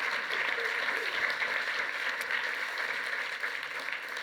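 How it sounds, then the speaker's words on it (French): An audience applauds after a keynote talk on digital health, with steady, moderately loud clapping continuing evenly for several seconds. "je pense qu'on peut applaudir le professeur Alassonnière."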